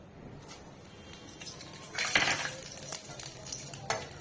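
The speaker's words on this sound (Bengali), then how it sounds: "ফোড়নটা একটু ভাজা ভাজা করে নেব।" Whole cumin seeds, a dried red chili and bay leaf fry in hot oil in a pan for a Bengali pointed gourd and egg curry, with a soft steady sizzle broken by metallic scrapes and clinks of a spoon stirring.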